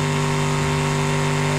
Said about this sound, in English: what happens if I just keep over-revving it then?